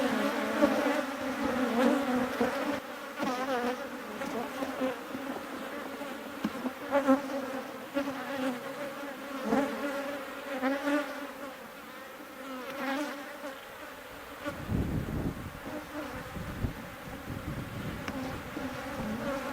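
Honey bees swarm around an open hive during a frame inspection, a dense, continuous buzzing close by that swells and wavers with passing insects, with no talking.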